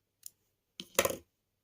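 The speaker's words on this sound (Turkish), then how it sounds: "ipimi kesiyorum burada" Scissors snip through crochet yarn at the end of a lace flower motif, a faint tick followed by one close, brief cutting crunch, alone in quiet.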